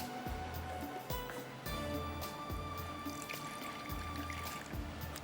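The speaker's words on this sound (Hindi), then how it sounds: "तो बैटर के लिए मैं यहाँ से लेती हूँ पानी।" Water from a tap runs and splashes into a bowl of rice flour batter during cooking. There is a steady trickle with irregular splashes and knocks, fairly close and quiet, and no one talks.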